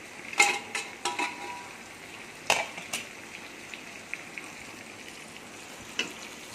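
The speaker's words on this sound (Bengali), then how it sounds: "ছোলার ডালটাও একটু সামান্য জল দিয়ে একটু ফুটতে দিই, একটু নেড়ে চেড়ে নিচ্ছি।" Chana dal with fresh Malabar spinach simmering in a pot with a splash of water while a spoon stirs it: scattered clinks and scrapes over a faint, quiet bubbling, with no talking.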